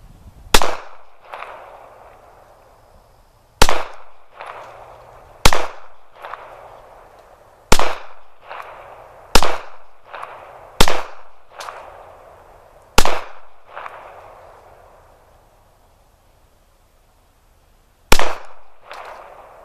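Glock 42 pistol fired outdoors, nine sharp, loud shots in an uneven rhythm with short gaps and a longer pause before the last, each crack followed by a brief echoing tail.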